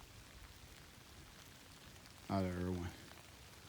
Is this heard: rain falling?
yes